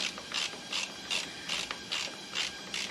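A ratchet clicks in steady repeated bursts while snugging the primary cover bolts on a motorcycle, about seven short rhythmic ratcheting strokes heard up close with no talking.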